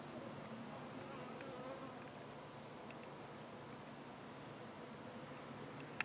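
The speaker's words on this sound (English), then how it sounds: "But there's a lot of bees just swarming around the palm." A swarm of bees relocated from a gas tank mills around a palm tree, giving off a faint, steady buzzing hum mixed with outdoor hiss, with no one talking.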